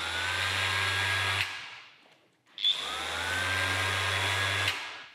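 A FLEX random orbital sander on car paint whirs steadily at close range, winds down to near silence, then starts up again and runs on with a constant buzzing hum.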